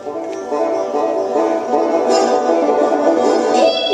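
Bright plucked banjo playing a lively run of notes, steady and fairly loud with no voices.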